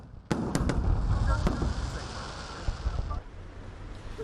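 Fireworks burst during Diwali celebrations in Leicester: a loud opening bang and several sharp cracks, then a dense, continuous crackle and rumble of outdoor explosions that carries on to the end.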